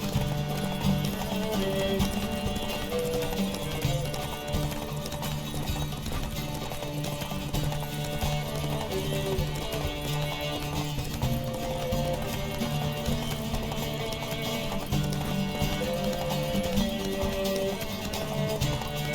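Roach, a horse in the video game The Witcher 3, gallops with steady rhythmic clip-clop hoofbeats over continuous game music and ambience, with a faint neigh, at moderate loudness throughout.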